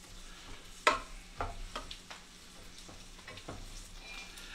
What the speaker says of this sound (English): This may be easier to stir with.